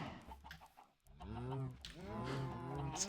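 Baby cows in Minecraft moo with drawn-out, wavering calls, two close in succession at moderate volume, with faint background noise between.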